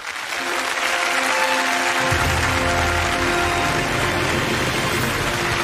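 Loud, sustained applause from an audience at a TV drama awards gala, a dense steady wash of clapping that swells after a couple of seconds and keeps going without pause.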